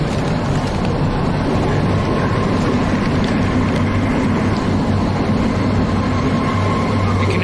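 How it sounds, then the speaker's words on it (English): A train rumbling through a tunnel overhead, a steady, loud, continuous roar that holds evenly throughout with no voices. "You can hear the train above."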